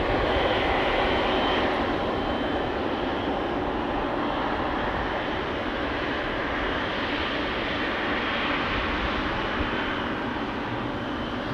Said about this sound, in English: United 767 also on the move, coming this way. It's loud because it's an American plane.